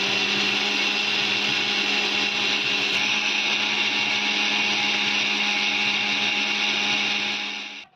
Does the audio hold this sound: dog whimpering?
no